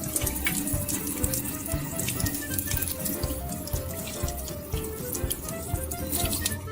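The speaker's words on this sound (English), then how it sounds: "now the main work that we need to do with these is to keep rinsing" Soaked seeds rinsed in cheesecloth under a running kitchen tap, a steady close rush of water with splashing and gurgling throughout, no talk.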